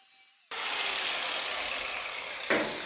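A Makita M9510B angle grinder abruptly starts up cleaning a wood surface, a loud, steady, hissing whir close by that holds for a few seconds.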